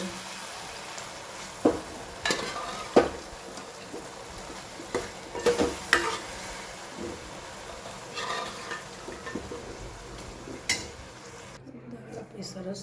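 Dal frying in a pan of spiced red-chili masala while being stirred, with an ongoing sizzle broken by scattered clacks and scrapes of a utensil against the pot.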